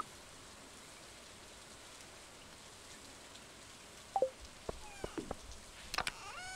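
Steady soft rain hiss fills a farm scene in Stardew Valley, a constant gentle wash of falling drops, with a few small sharp game blips and chimes poking through near the end.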